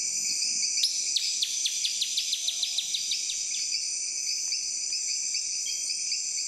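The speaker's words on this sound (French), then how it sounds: "on va écouter le paysage sonore de la Guyane," Dense, shrill insect chorus with rhythmic pulsing trills fills a French Guiana tropical rainforest, while a few bird calls sound faintly in the distance; no voices.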